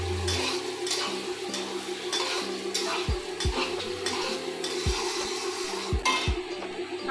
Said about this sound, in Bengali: আমাদের আলু ভাজা হয়ে গেছে